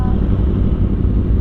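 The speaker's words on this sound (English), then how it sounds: "It's got a Two Brothers exhaust on it and a Brent tune." A Yamaha R1 motorcycle fitted with a Two Brothers exhaust and a Brent tune gives a loud, close, steady low engine rumble with some wind buffeting, heard briefly and alone.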